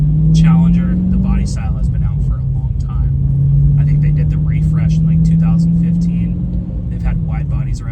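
A Dodge Challenger Scatpack Widebody drives along with a steady, deep engine drone and road rumble, while someone talks over it throughout.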